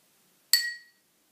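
A spoon strikes a glass of water once, giving a single bright, ringing clink that decays over about half a second, alone in silence.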